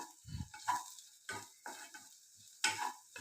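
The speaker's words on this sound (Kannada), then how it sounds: "1/2 ಟೀ ಸ್ಪೂನಷ್ಟು ತುಂಬ ಸಣ್ಣದಾಗಿ ಕಟ್ ಮಾಡಿದ ಶುಂಠಿ ಪೀಸ್ನ ಹಾಕ್ಕೊಂಡು ಲೈಟಾಗಿ ಫ್ರೈ ಮಾಡ್ಕೋಬೇಕು" Finely chopped ginger and garlic fry lightly in a pot for soup, giving a faint sizzle under sharp, intermittent scraping and clinking stirs spaced about a second apart.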